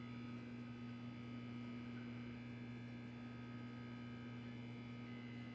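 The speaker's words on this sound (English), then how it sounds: "Got a little like white noise from the light in here." Room light in The Stanley Parable video game giving off a faint, constant electrical mains hum, steady and unbroken with no other sounds.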